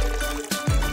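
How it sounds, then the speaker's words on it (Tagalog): Water is poured into a glass packed with grapes and ice, giving a brief, close trickling splash that lasts under a second, with no one speaking. "Pagkatapos, lagyan ng tubig."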